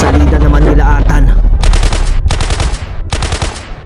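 Sound-effect gunfire in a narrated fight: three loud sharp bursts of shots follow each other after a stretch of low rumbling music, each burst ringing briefly before the next.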